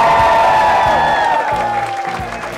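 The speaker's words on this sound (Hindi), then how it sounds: "तालियां" Studio audience on a Hindi television game show claps steadily at close range, with music tones sustained over the applause, which thins out toward the end of the short burst.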